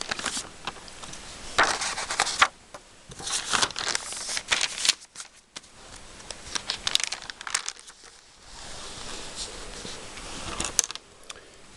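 Blue carbon copy paper in a paper customer book being handled, with bursts of crisp crinkling and rustling broken by brief quiet gaps, close and moderately loud.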